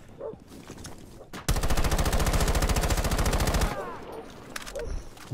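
Sustained burst of rapid automatic assault rifle fire in a video game, loud and close, lasting about two seconds before cutting off, with faint background sounds around it.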